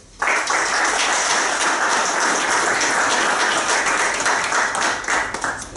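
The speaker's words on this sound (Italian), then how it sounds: "Iniziamo eh, questa nuova stagione con eh, Fabio Conditi, un applauso." An audience in Ancona applauds to welcome a speaker at a talk, bursting into dense, steady clapping that starts abruptly, holds loud and full, and starts to taper near the end.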